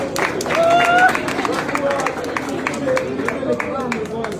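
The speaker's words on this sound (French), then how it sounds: "Et vous applaudirez ça" Audience applause and crowd noise at a talk on generating electricity from plants, a steady mass of clapping throughout with chatter and a voice speaking over it.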